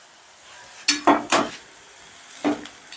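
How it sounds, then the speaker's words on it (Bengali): A ladle gently mixing vegetable pulao with ghee and garam masala in a pot over a low flame, a few soft scraping strokes close by in a quiet room. "এবারে সমস্তটা আবারও আমি আলতো হাতে মিশিয়ে দিচ্ছি।"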